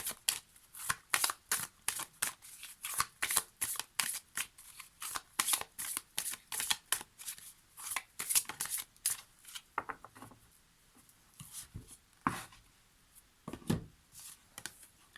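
Oracle cards being shuffled by hand make rapid, crisp riffling bursts in quick succession, close and clear, with a few short pauses near the end.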